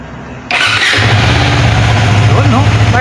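A Bristol Assassin R400 motorcycle engine cranks and catches after a brief quiet moment, then settles into a loud, close idle with a couple of quick revs near the end.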